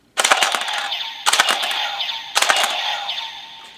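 A Birth Buster DX Rider toy weapon plays its electronic firing effect three times, each a loud burst of rapid synthesized shots trailing into a ringing electronic tail, close and clear.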